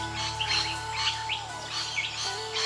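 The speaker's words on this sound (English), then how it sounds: "the high-pitched sounds, the tireless search for food and their abundance, make the rainbow lorikeet unique." Rainbow lorikeets, Australian parrots, give repeated high-pitched chirping calls in short overlapping bursts, fairly loud and steady above a constant low hum, with no talking.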